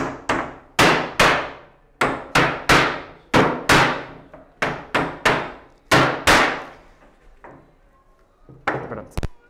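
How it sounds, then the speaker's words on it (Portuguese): A hammer drives nails into reclaimed wood in a run of about fifteen sharp, ringing blows, spaced in uneven bursts and close, with a brief pause before the last few strikes. "o que eu faço é apanhar aqui no nosso martelo e martelar os pregos para dentro"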